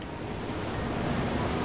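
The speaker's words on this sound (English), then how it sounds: "So the waves are artificial, generated by this thing." Artificial waves churned out by a wave generator in the Pokémon XD video game, a steady, close wash of surf and rushing water that holds at an even level the whole time with no voices.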